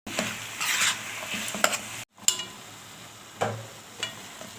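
Meat searing in a pan over softened onion, pepper, tomato and carrot, with a steady close sizzle and scrapes of stirring, a brief gap, then the sizzle resuming with occasional utensil knocks.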